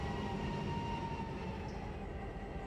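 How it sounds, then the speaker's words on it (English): A big train with SD38 locomotives rumbles steadily in a railroad simulation game, a low continuous engine and rail drone at moderate volume with no voices. "That is a big old train right there."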